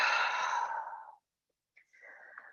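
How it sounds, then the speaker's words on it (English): Slow deep exhale during a gentle yoga stretch, a long breathy sigh fading out over about a second, then after a short silence a softer, quieter breath follows close to the listener. "take some deep breaths here"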